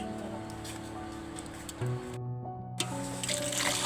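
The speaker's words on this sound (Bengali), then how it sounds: "মাংসগুলো এবার ধুয়ে নেওয়া হচ্ছে" Water runs steadily as raw duck meat is washed for a village-style duck curry, with splashing and sloshing, a brief drop-out midway, then the flow resumes close and full.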